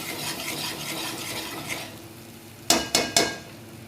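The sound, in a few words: stirring and mixing stuffed brinjal masala in pan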